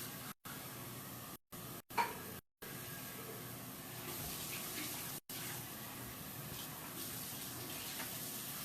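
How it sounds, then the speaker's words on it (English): Tap water runs steadily into a sink as items are rinsed, a soft continuous hiss and splash heard close but quietly, broken by several brief silent gaps. "So, Laura Craner, play some music while I rinse these off so we can start our California soup"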